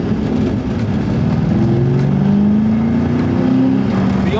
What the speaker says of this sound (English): the car is definitely a lot louder than it was before